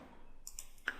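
Mouse clicks in a computer network configuration interface, two or three soft, crisp clicks close to the microphone against near silence.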